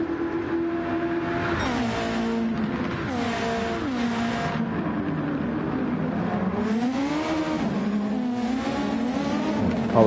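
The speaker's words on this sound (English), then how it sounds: "Watch the Ferrari going through the final corners." A Ferrari race car in a racing video game sweeps through the final corners, its engine loud and continuous, with pitch climbing and dropping through repeated gear shifts and throttle lifts.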